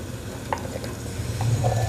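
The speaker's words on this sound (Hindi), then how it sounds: "तो ऑयल में मैं सबसे पहले डालूंगी प्याज" Onions frying in oil in a cooking pot, a steady close sizzle with a few soft stirring scrapes, no voices.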